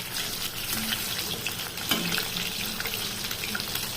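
Pieces of katla fish fry lightly in hot oil in a pan, a constant soft sizzle with faint splashy, watery crackle throughout, no voices.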